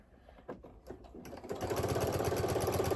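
Sewing machine sewing a diagonal corner-to-corner seam on a jelly roll quilt: a few soft clicks and taps, then the motor starts and runs in a loud, steady, fast stitching whir close by.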